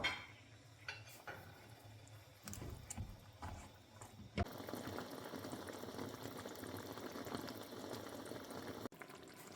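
A pan of curry with vegetables cooks steadily on the stove, giving a soft continuous bubbling simmer with occasional light clinks of a utensil against the pan, faint and close, with no talking.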